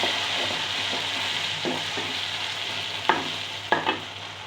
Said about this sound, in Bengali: পেঁয়াজ অনেকটা লাল হয়ে গেছে, এখন এর মধ্যে দিয়ে দিব রসুন বাটা।